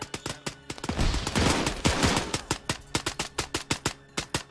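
Rifle fire from an Arma 3 battle, M1 Garand shots among it, cracks out as a dense fusillade of overlapping gunfire, then thins into a rapid series of separate sharp shots at fairly even intervals.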